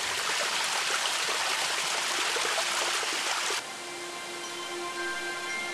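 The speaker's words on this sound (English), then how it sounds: "the headwaters of the Anabuki River can be seen gushing from springs on Mount Tsurugi." Spring water gushing at the headwaters of the Anabuki River on Mount Tsurugi, Japan, a steady bright splashing and trickling flow that shifts abruptly partway through to a quieter wash with a faint hum.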